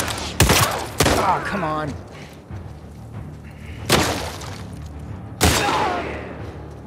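Gunfire in The Last of Us Part 2 fires as three sharp, loud shots spaced a few seconds apart over a dull game ambience. A player speaks briefly between them.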